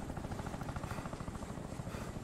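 A fire support helicopter in the Insurgency video game gives a continuous, pulsing rotor chop with a dense low thrum, steady and moderately loud throughout with no talk over it.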